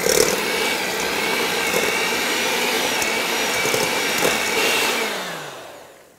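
Electric mixer whirring in a silicone-bottomed bowl of plum pudding batter, a loud steady motor drone that runs continuously, then winds down near the end with a small knock as it stops.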